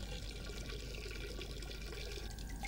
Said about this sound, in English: I will flush it for you.